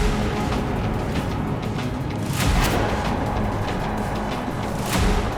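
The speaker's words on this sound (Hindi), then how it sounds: "सारातोव के एक मैदानी इलाके में विस्फोट की आवाज आई" An explosion in an open field in Saratov, heard as a rumbling, roaring wash of noise with two deep booms a few seconds apart.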